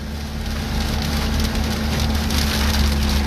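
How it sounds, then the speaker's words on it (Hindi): Heavy rain on the road from Mecca to Al Hada pours down in a dense, constant hiss, drumming on surfaces nearby with a faint low hum underneath. "फुल बारिश हो रही है फुल"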